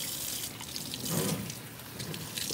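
Water running from a tap to rinse a pet during a bath, a steady continuous wash of flowing liquid heard alone at close range.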